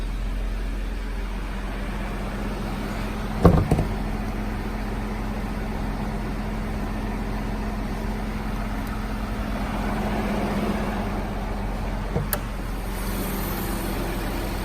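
A 2018 Ford Edge Sport with its EcoBoost engine idles steadily under an open hood, a low even hum throughout with a couple of brief knocks or clicks near the start and end.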